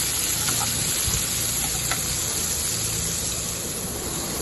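Red chilies and nigella seeds frying in oil in a pan, a loud continuous sizzle heard close up with a few faint stirring knocks and no talking.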